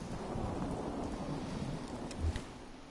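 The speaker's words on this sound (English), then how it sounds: "Rain." Steady rain pours throughout in the Fallout 4 video game, with a deep rumble of thunder swelling near the end, heard alone and fairly quiet.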